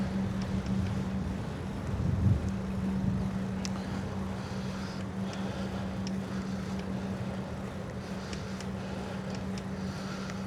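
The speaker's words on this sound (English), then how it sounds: "It's rather windy today." Steady wind buffeting the microphone during a riverside bicycle ride, a continuous broadband rush with a low hum running underneath throughout.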